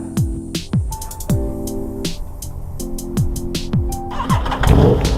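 An Aprilia RSV4 motorcycle that had trouble starting cranks in repeated short bursts, each with a falling whine, before the engine finally catches and roars loudly near the end.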